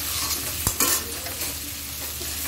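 Hilsa fish pieces fry in hot oil with salt, a steady close sizzle with a couple of quick stirring scrapes near the start.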